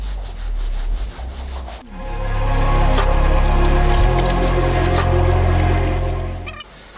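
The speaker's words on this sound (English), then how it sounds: "give it a nice wipe down while it's free" Car engine bracketry on a BMW E34 wiped down with a cloth: brief handling noises, then a few seconds of steady, close, loud rubbing and scrubbing.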